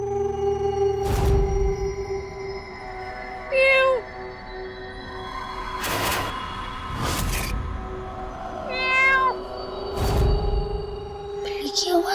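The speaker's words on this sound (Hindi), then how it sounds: "बिल्ली की आवाज, इसका मतलब कोई बिल्ली घुस आई है" A cat meows indoors in a Hindi drama serial, two distinct rising meows spaced apart amid door and household bumps, with people talking around them.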